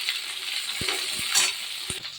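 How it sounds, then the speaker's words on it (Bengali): Onions frying in hot oil in a pan for a bhetki fish-bone chorchori give off a steady, close sizzle, broken by a few sharp clicks from stirring. "পেঁয়াজটা লাল করে ভেজে"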